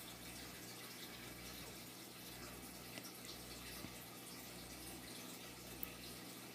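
Home aquarium water running steadily in the background, a faint continuous trickling and bubbling hiss with no other sounds.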